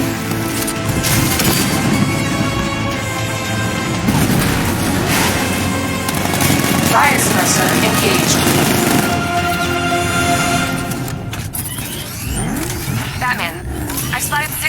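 Heavy 60mm tank cannon blasts in Batman: Arkham Knight boom a few times over a rumbling engine and a steady musical drone, with deep thuds spaced several seconds apart.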